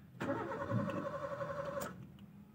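A 2015 Maruti Ritz petrol engine cranks for about a second and a half without catching, a steady starter whir that stops abruptly, close and fairly loud.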